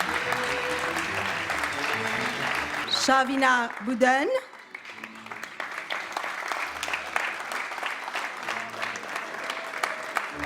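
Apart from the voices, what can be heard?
audience applause for concert finalists receiving trophies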